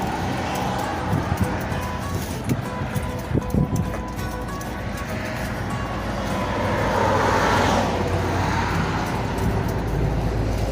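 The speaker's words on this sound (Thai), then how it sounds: "ก็เส้นนี้รถผ่านตลอด" Vehicles pass a roadside stall on a busy road in Chian Yai, Thailand, giving a steady wash of traffic noise that builds into a louder passing swell near the end.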